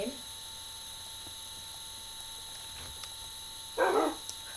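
A single short dog bark from a video game near the end, over a quiet background with a steady electrical hum.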